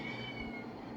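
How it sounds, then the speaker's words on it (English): A pet cat meows in a home kitchen while chicken is being cooked, a single close, moderately loud mewing call with a faint steady hum underneath. "I love that the cat's meowing"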